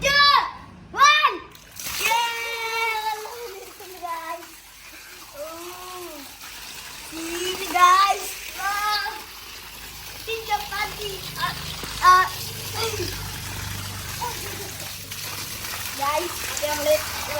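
Water gushes and splashes into a fish pond that is being cleaned, a steady wash running under frequent excited children's voices that sit close and loud over it.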